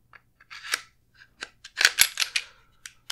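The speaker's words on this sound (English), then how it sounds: "Now we're going to re-engage that lever for as far as disassembly is concerned." The disassembly lever on a Smith & Wesson M&P Shield 9mm micro pistol is worked by hand, producing a close series of sharp metallic clicks and snaps in quick uneven succession.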